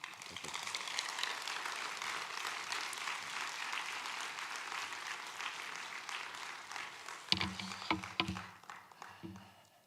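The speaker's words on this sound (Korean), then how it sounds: "나오실 때 뜨거운 박수" A church congregation applauds as a preacher comes forward at a deacons' dedication service, sustained clapping that thins out toward the end, where a few louder, closer sounds break through.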